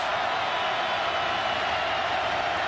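Steady roar of a football stadium crowd at Auburn versus Tennessee, an even wash of noise with no distinct cheers or breaks.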